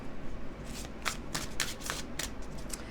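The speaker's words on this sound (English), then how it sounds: "as I shuffle the tarot" Tarot cards are shuffled close up in quick riffling bursts, a crisp papery flutter repeating several times against a quiet background.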